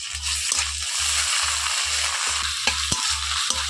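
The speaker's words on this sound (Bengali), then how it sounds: "আদা রসুনটা হালকা ভাজা করে দিচ্ছি" Ginger-garlic paste frying in a pan over lightly fried onions, with a steady sizzle and regular stirring scrapes, a few sharper clinks of the spoon near the end; no talking.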